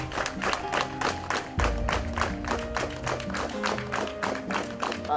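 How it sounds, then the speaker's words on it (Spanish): Group of young people at a school welcoming visitors with loud, sustained clapping, many hands in fast irregular rhythm, close and continuous with a thump partway through. "Pues damos la bienvenida, jóvenes, con fuertes palmas."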